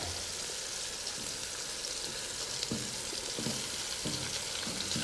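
Chopped cauliflower joining frying ingredients for cauliflower pulao in a pan: steady oily sizzling with soft, regular stirring clunks, fairly close and without talk.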